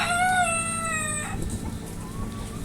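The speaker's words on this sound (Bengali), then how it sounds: "আমার এখানে দেখেন মোরগগুলো মাশাআল্লাহ বড় বড় আছে সবগুলো মোরগই।" Desi roosters on a farm crowing loudly and close by, one long drawn-out crow followed by rustling and scattered clucking from the flock.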